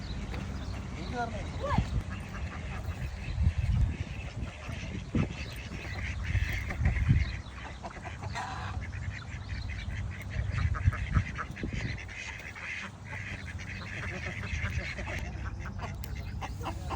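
Ducks quack in scattered bursts amid farmyard noise with chickens and goats, people talking over them and occasional knocks.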